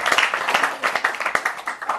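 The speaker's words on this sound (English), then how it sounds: "Definitely give him an applause." A small audience at a training session claps in quick, close, uneven hand claps lasting about two seconds with no talk over it.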